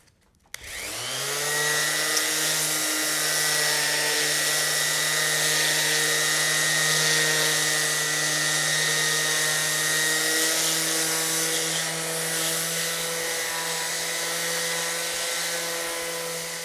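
After a brief quiet moment, a power sander starts up on wooden farmhouse table pieces and runs as a loud, steady, high-pitched motor whine right to the end, with no voices.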